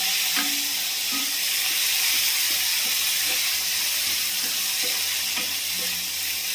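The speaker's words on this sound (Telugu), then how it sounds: "టమాటాలు ఎక్కువగా వేగనవసరం లేదండి, పచ్చి వాసన పోయేంత వరకు వేయించుకుంటే చాలు." Chopped tomatoes frying in a pan with oil for gongura pachadi: a steady, loud, close sizzle and hiss running throughout, with faint occasional stirring taps and no voices.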